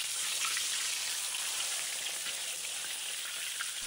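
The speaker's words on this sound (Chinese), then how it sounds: "炸至表皮金黄酥皮的就可以了。" Meat deep-frying in hot oil until its skin turns golden and crispy gives a dense, steady sizzle and crackle that stays loud and even throughout, with no voices.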